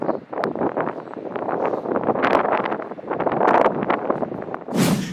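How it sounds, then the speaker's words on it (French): Strong gusts at the Vieux-Port during a film shoot buffet the microphone in a continuous loud, roaring rumble with rustling surges, close and steady throughout. "il y avait beaucoup de vent ce jour-là"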